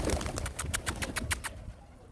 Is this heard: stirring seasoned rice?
no